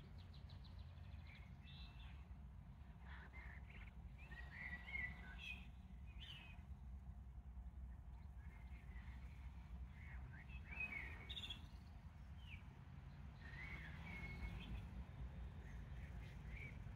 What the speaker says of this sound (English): All the birds are going to bed here